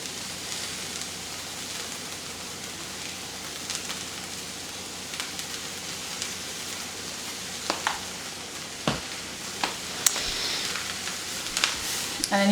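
Vegetables fry in coconut oil in a pan, giving a steady, even sizzle with scattered clicks and scrapes from stirring that grow a little more frequent toward the end.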